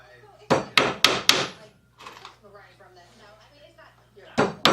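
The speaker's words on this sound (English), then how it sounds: "So just position your nail so you're not nailing into the knot." A hammer drives a nail into a wooden board while a 10-frame honey super is being built. Four sharp, close strikes come in quick succession, then someone talks briefly, then two more strikes follow near the end.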